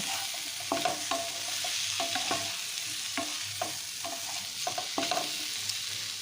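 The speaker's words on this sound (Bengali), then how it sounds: "সমস্ত উপকরণগুলো একসাথে একটু নাড়াচাড়া করে ভেজে নিচ্ছি" Broccoli and capsicum stir-fry in a hot pan with the other ingredients, oil sizzling in a constant hiss while a spatula scrapes and knocks against the pan in irregular bursts. No one speaks.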